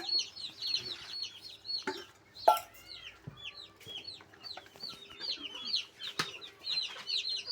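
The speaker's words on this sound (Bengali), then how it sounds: "সাকিব ভাইকে জিজ্ঞাসা করবো মুরগিটাকে কী কী খেলায়।" A group of young broiler chickens peeps and clucks in rapid, overlapping bursts at close range, with occasional knocks and rustles among them and no speech.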